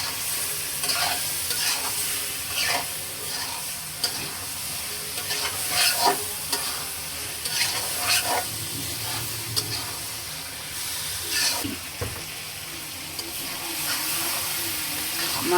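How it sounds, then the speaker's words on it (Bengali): Pabda fish is stirred into spices in a pan: a steady sizzle of frying under repeated scraping strokes of a spoon, with occasional clinks against the pan. "মাছটা মশলার সাথে ভালো করে মিশিয়ে নিই।"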